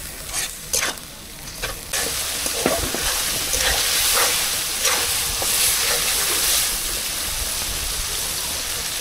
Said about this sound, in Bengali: মশলাটা ভালো করে কষাইয়ে নিচ্ছে, ভালো করে কষাইয়ে নি।